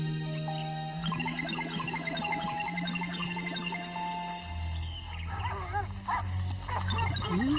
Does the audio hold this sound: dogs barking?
yes